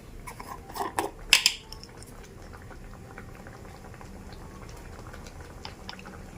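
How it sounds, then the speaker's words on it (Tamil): Sauce for a Tamil kuzhambu with turmeric powder added bubbles and pops softly in a pot, a steady low simmer with a few louder bursts near the start. "இப்போ இது நல்லா கொதிக்கட்டும்"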